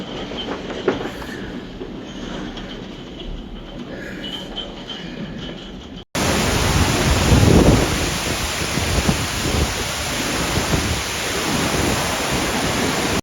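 Heavy rain pours down in a severe thunderstorm in Germany, a steady loud wash of water that swells sharply halfway through, with a deep rumble underneath and no voices.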